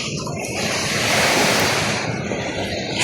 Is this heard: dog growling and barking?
no